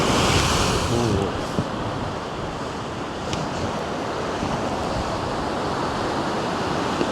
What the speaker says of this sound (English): they're just big splashy waves. Full of air, not that much energy in it.